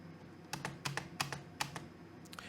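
Keys on a computer keyboard are struck in a quiet burst of about eight crisp, uneven clicks at close range, with a faint background hum and no talk.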